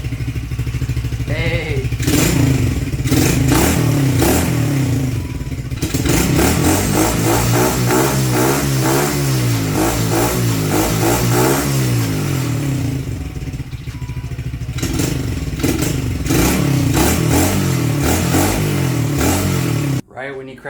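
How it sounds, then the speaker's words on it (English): An old pit bike that sat unused for years, its engine firing up and revving repeatedly with a slightly boggy throttle response, loud and close, with brief speech near the start. "Right when you crack the throttle, it seems a little boggy"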